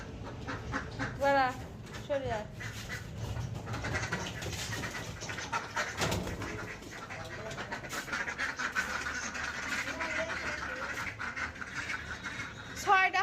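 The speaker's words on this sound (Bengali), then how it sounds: "হাঁসই তো সাতটা হাঁস" A flock of seven ducks at a rural home quacks in short nasal bursts, scattered and fairly close, under ongoing talk and household background noise.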